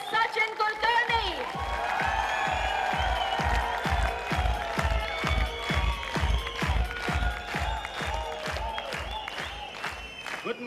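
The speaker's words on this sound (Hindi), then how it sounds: "तो चाहूंगी जोरदार तालियां बजती रहे" Audience at a Club Netsurf gathering claps to welcome national mentor Sachin Kulkarni, with loud, rhythmic clapping in unison and some cheering throughout.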